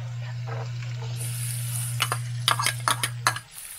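Garlic and onion sauté in hot oil as they are stirred in a pan, a steady close sizzle with a low hum beneath and a run of sharp scraping clicks near the end.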